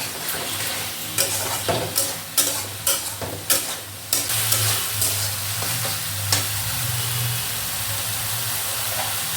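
Ginger garlic paste frying in a pan for Bengali chicken rezala: a constant hissing sizzle with a run of sharp spatula scrapes and taps in the first few seconds, then steady frying.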